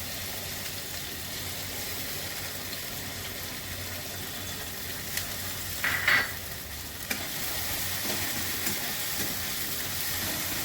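A paste of ground mustard, poppy seed and green chili fries in the oil left from frying rohu fish, giving a steady, even sizzle with light stirring scrapes and a brief louder crackle midway.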